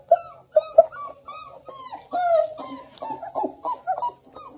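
Three-week-old female Redbone Coonhound puppies whimper and yip close by, a run of thin, high whines and short squeaky cries that rise and fall in uneven bursts, with no talking.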